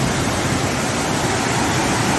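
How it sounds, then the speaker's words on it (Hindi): Water flowing steadily through a dense hillside forest near a temple, a loud, even rushing wash that fills the whole stretch with no break and no talking. "हाँ, पानी की आवाज।"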